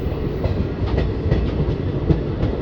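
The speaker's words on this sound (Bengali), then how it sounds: "নবদ্বীপ ধাম স্টেশন থেকেও ট্রেন ছেড়ে বেরিয়ে যাচ্ছে" Malda-Howrah Intercity Express pulling out of Nabadwip Dham station, its wheels beating a steady clickety-clack rhythm with a loud continuous rumble close by and no voices.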